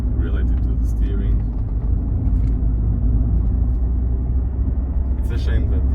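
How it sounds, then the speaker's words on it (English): A Rover 400 car engine runs steadily with a deep, continuous low rumble, heard from inside the well-soundproofed cabin while the car is driven, loud and unbroken throughout. "It's a shame that the engine is sounding like this"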